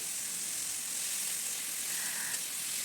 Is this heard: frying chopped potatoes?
yes